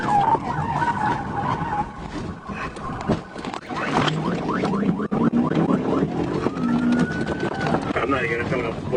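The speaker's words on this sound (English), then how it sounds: "The Yukon spun sideways, skidded across the road, and came to a halt against an embankment" A GMC Yukon SUV skids sideways across a road during a police pursuit, with loud close tire squeal and engine roar churning over wind buffeting while voices talk throughout.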